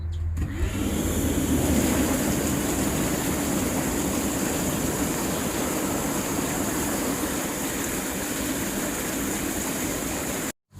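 Steady broadband rushing and bubbling from the 140-hole bubble jets of a Lay-Z-Spa Miami inflatable hot tub, like dense air jets churning water, continuous and fairly loud, then cutting off abruptly.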